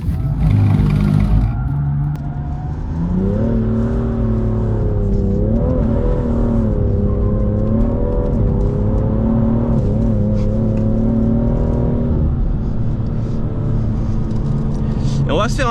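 A BMW M2 sliding sideways around the Castellet driving-center track, its engine holding a loud, steady, wavering drone with revs rising and falling, while someone talks over it from inside the car.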